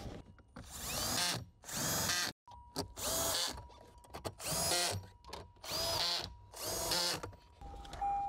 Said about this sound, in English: let's take this time to start screwing on some bolts.